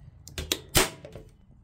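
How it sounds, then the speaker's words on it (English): Several sharp mechanical clacks in quick succession, the loudest a hard snapping staple gun shot into the wooden frame of a soil screen, with fainter taps around it. "I'm going to take my staple gun"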